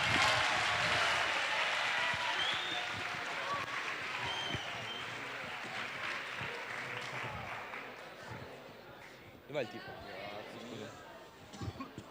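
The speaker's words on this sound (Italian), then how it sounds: "Dai, accogliamoli con un bel applauso" Applause from an audience at an Italian school event welcoming student presenters, a dense steady clapping that gradually thins out over about twelve seconds, with crowd chatter mixed in.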